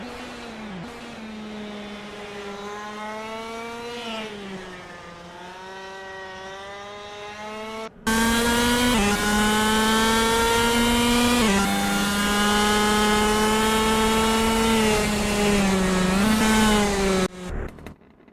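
A KC Shifter Kart TM K9C engine drones on an outlap of Royal Raceway in Assetto Corsa, a steady buzzing whine that rises and dips with throttle, then jumps louder and harsher partway through before cutting off abruptly.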